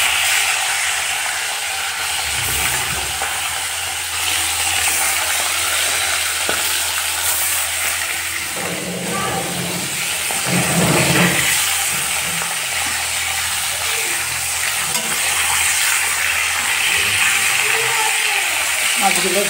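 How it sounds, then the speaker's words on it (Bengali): Marinated fish coated in turmeric and salt frying in hot oil in a home kitchen, a steady broad sizzle with occasional scraping and stirring noises throughout. "মাছগুলো ভাজা হবে।"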